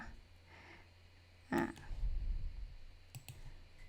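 A computer mouse clicks while working in Canva: a few sharp, quiet clicks, one single and then a quick pair, over a soft room hum and faint breathing.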